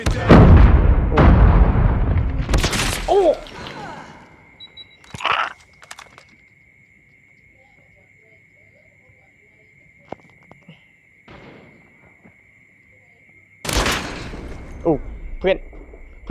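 Gunfire and explosive bursts from the video game Call of Duty: a loud, dense volley opens the scene, followed by scattered sharp shots and a long steady electronic tone, then another heavy burst near the end, with voices talking in between.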